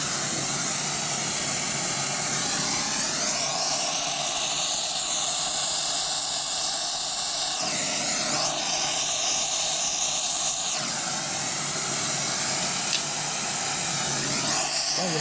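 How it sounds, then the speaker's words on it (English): Steady broadband hiss of a torch flame melting lead in a workshop while building a 650cc XL stroker Sportster single engine, continuous and fairly loud with slight shifts in tone, no voices. "Oh, you're melting your lead."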